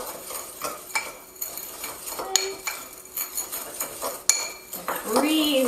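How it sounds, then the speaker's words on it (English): A spoon scraping and clinking against a bowl while mixing lime zest into chili seasoning salt, an irregular run of metallic taps and scrapes with one brief squeak toward the end. "now we're going to mix in our lime zest"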